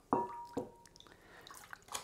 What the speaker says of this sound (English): all we do is wash the rolling pin with water